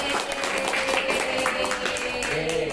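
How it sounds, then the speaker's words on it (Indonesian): A classroom of secondary school students applauds, a steady wash of clapping that runs the whole moment with some voices mixed in. "Tepuk tangan untuk Mas."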